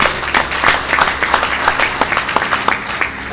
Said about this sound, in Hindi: भाई मिस्टर राहुल कुमार गुप्ता एक जबरदस्त ताली होना चाहिए